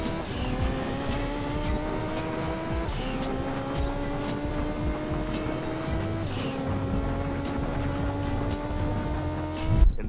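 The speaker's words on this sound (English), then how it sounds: "the graphics, paired with the engine sounds, made it feel like you were really out there shaking and baking, word to Ricky Bobby." Race car engines in the Gran Turismo 2 video game, a loud revving whine climbing through gears with audible shift drops roughly every three seconds, continuous and close.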